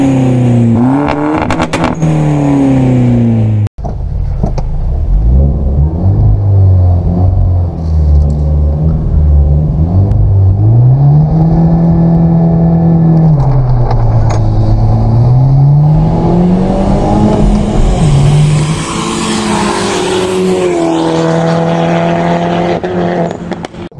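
Hyundai Genesis 2.0T in a quarter-mile drag race, its engine roaring loud and close, climbing through revs with gear shifts over a steady rumble before fading as it pulls away.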